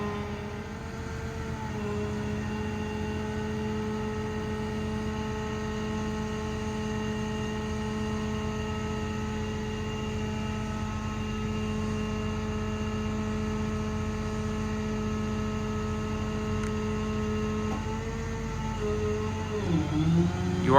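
A hydraulic crane boom lowering and extending on a 2015 International 4400 truck with a Cummins diesel and a Maintainer 10k crane: a steady, close droning whine that holds level for a long stretch, then shifts and wavers near the end.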